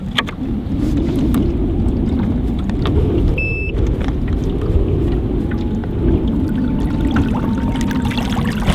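An ePropulsion Spirit 1.0 electric dinghy motor drives a small boat across the water, a loud, steady rush of wind and water noise with a faint tonal whine riding underneath.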